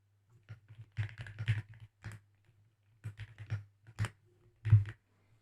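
Computer keyboard typing while writing code in a Unity coroutine, in irregular bursts of close, soft key clicks separated by short pauses, with no voices.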